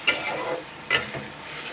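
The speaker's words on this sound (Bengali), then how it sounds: "দুই তিন মিনিট একটা ভালো করে নাড়াচাড়া করে নিতে হবে এটা কিন্তু হাই হিটেই করছে" Masala kundru (ivy gourd) stirred and fried in a pan over high heat, giving a steady close sizzle with two sharper scraping stirs, no talking.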